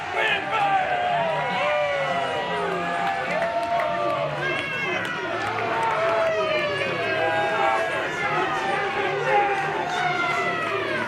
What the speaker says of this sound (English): This crowd is fired up for Big Devan and KUJO.